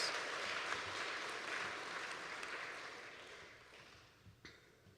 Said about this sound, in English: Ladies and gentlemen, please give a huge round of applause to all of our new Kitty Hawk Air Society members.